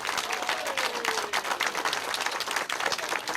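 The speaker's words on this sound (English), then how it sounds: "please applaud TV Hamilton and Steve Colwell for what they do." Steady applause from a crowd at a street-naming dedication ceremony, dense clapping that holds at an even level throughout, with faint voices mixed in.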